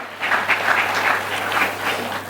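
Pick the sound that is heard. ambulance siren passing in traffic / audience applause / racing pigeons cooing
audience applause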